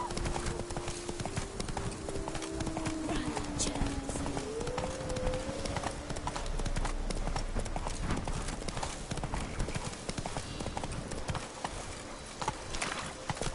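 Roach, Geralt's horse in The Witcher 3: Blood and Wine, trots along in a steady clip-clop of hooves with a brief whinny, under game music and occasional voices.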